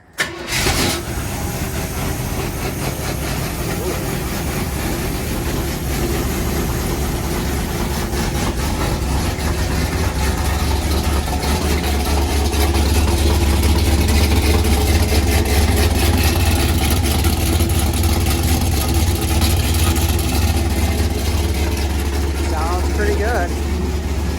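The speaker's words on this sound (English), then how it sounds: "Just key on, and I'm going to go ahead and fire it up." A 1977 Chevrolet Camaro engine, with newly installed exhaust, cranks and catches, then settles into a steady close idle that deepens into a low rumble and continues without letup.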